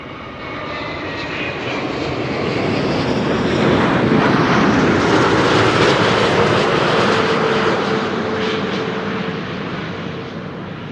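Delta wide-body airliner arriving at Amsterdam Schiphol, its jet engine roar swelling loud and broad as it passes near, then slowly fading.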